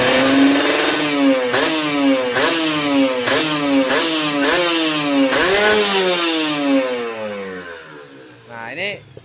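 Loud, close revs from a motorcycle fitted with a newly replaced carburetor and exhaust: the engine climbs and drops about six times in a row, then settles back down as the throttle closes.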